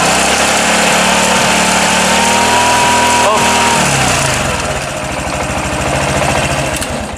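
A Honda Supra X 125 PGM-FI motorcycle engine at close range, revved loudly and held around 3000 to 4000 rpm, a steady buzzing drone that dips and rises again.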